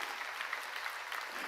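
A church congregation applauds during a Korean sermon, dense steady clapping from many hands filling the room at an even loudness with no voices over it.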